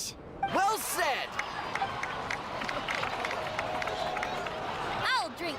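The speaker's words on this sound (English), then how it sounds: "please give another round of applause for them" A crowd in a Genshin Impact cutscene applauds, with dense clapping and cheering swelling and holding under music, with brief whooshing tones near the start and end.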